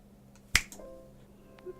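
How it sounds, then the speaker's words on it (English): A single sharp finger snap, close and crisp, with a short ringing tail and then quiet room tone. "I snap my fingers."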